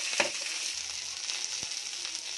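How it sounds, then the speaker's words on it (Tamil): Shallots and jaggery sautéing in a pan for a thuthuvalai chutney give a steady, fairly loud frying hiss with a few sharp stir clicks near the start and middle, no voices. "சின்ன வெங்காயம் வெல்லம் போட்டு நல்லா வதக்கணும்"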